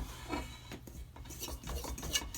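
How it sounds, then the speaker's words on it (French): Makroud dough being mixed by hand with a fork, giving soft, irregular scraping and rubbing strokes at close range, fairly quiet and with no talking. "Je mélange un peu."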